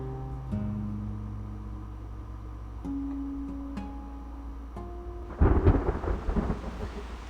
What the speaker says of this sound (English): It's the storm.